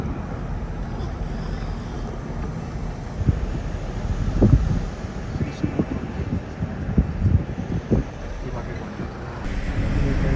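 Gusty wind buffets the microphone at Shinkula Top valley, rough low rumbling bursts swelling and easing irregularly over a steady hiss, loud and close.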